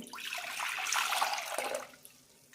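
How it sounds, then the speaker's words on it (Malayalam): Tamarind water is poured into a pot while cooking a Palakkad-style puli curry, a steady splashing liquid pour lasting about two seconds that fades at the end, close and fairly loud with no talking. "ഇനി ഇതിലേക്ക് പുളി ഒഴിക്കാം"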